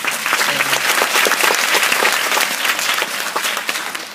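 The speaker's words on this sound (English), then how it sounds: "I think they deserve an applause for preparing them." Audience applause for parents and teachers at a children's performance: loud, sustained clapping from a crowd, steady and dense from start to finish.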